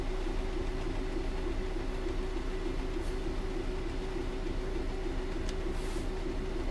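A Northern Class 323 electric train runs on the Glossop Line toward Manchester Piccadilly in Train Sim World 3, giving a steady, continuous rumble and drone with a faint higher whine throughout, with no talking.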